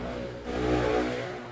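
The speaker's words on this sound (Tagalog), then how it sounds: "pasensya na sa mga sasakyan. Nagsisimula na silang mag-ingay." Loud traffic passing on a street, a car with a modified exhaust swelling to a droning roar midway and then fading, alone without talk.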